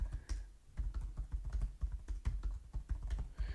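Rapid, irregular keystrokes clatter on a computer keyboard as an email address and password are entered, close and fairly quiet, with no talking.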